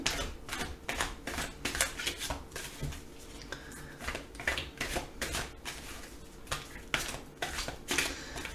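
Tarot cards being shuffled by hand in quick repeated bursts of riffling and flicking, close up, with brief pauses between passes.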